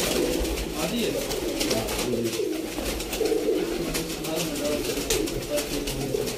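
Pigeons coo steadily at close range in Sialkot, their soft rolling calls continuing throughout while someone talks over them.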